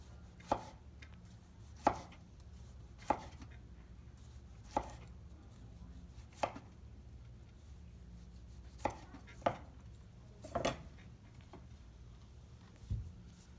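Tomatoes are sliced with a knife on a cutting board in a made-from-scratch restaurant kitchen, giving about a dozen sharp, separate chops at an uneven pace, close and clear over a low kitchen hum.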